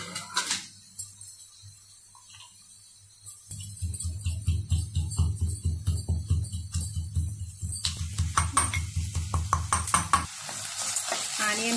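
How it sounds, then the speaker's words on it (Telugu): Ginger and garlic pounded by hand in a steady rhythm of dull, close thumps, about several per second, over the faint sizzle of onions frying nearby. "ఇప్పుడు అల్లం వెల్లుల్లిపాయ కూడా దంచుకుందాం."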